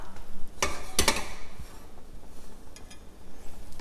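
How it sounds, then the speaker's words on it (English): A coconut granola egg-white pancake cooks in a pan that is being moved around, giving a low sizzle with a few sharp scraping clanks early on, close and without talking. "I'm moving the pan around because there's still liquid on the top"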